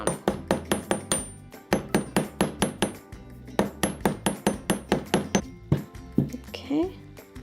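Rapid, steady metallic hammer taps on copper sheet ring out up close in a continuous rhythm, pausing briefly before resuming, with a short vocal sound near the end.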